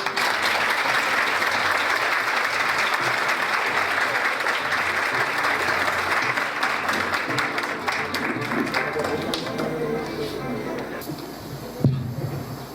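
Long, steady audience applause at a book launch, loud and full for many seconds, gradually thinning into scattered claps, with a voice briefly heard at the end.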